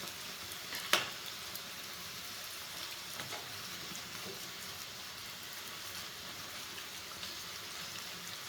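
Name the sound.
cauliflower frying in hot oil for gobi manchurian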